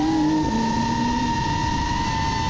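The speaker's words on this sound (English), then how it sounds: "You can hear the engine too." A Porsche 911 Turbo S engine pulls hard and continuously in a steady, loud drone. Its pitch shifts slightly as it accelerates along a road during a chase, and no voices break through.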